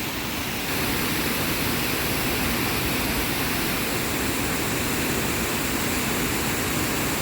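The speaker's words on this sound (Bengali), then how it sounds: "দুটো নদীর কনফ্লুয়েন্স থাকে এখানে, দুটো ঝর্ণার কনফ্লুয়েন্স" Two mountain waterfall streams meet at a confluence on an alpine village trek, producing a dense, unbroken roar of rushing water that stays constant and fairly loud throughout.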